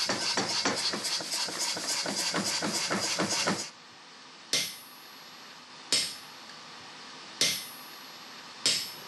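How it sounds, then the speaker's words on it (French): A power hammer in a forge roughs out hot metal with a rapid, even run of heavy blows for several seconds, then strikes four single, spaced blows that ring out and fade, with no one talking. "Donc là je vais le dégrossir au marteau pilon."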